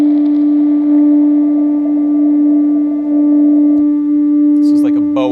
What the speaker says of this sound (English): it's sort of like a echoey space transmission noise.